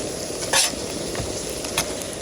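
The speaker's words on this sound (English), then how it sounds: "I'm gonna cook the salmon in the leftover oil here, which is coconut oil." Salmon sizzling in leftover coconut oil at a camp cookout, a steady close frying hiss with a couple of brief scraping stirs, no voices.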